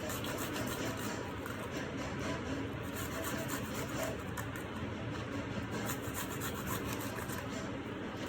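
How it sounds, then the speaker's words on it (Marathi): Garlic cloves rubbed over a grater for garlic bread, a steady close scraping rasp running continuously without pause. "अशा पद्धतीने लसूण किसून घेऊया आपण।"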